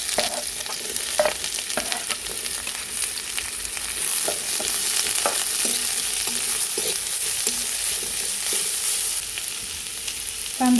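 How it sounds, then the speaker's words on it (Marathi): Five chopped onions fry in hot oil in a pot over a wood-fired chulha, giving a loud, continuous crackling sizzle with soft stirring scrapes throughout and no voices. "त्याच्यामध्ये ते आपण पाच कांदे चिरून घेतलेले ते भाजून घेणार आहोत"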